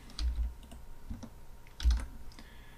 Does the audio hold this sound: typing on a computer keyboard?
yes